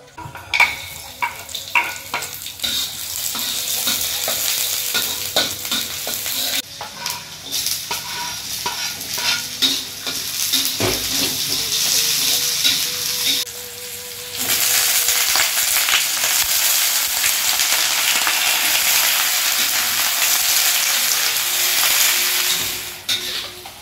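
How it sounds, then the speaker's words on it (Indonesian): Steady sizzling and crackling of salted fish frying in hot oil, with frequent scraping and clinking of a utensil stirring in the pan. "sekarang lanjut menggoreng ikan asin"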